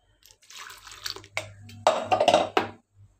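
Water splashes and pours into a mixer jar holding grapes and sugar for fresh grape juice, coming in a few short, close bursts with brief gaps and a faint low hum beneath.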